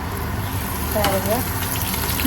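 Steady sizzling and crackling of curry leaves dropped into hot oil for tempering, a constant hiss throughout with a brief louder burst in the middle.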